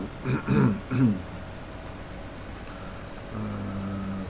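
A few short, rough coughs or throat-clearings close by in quick succession, followed by quiet background hum.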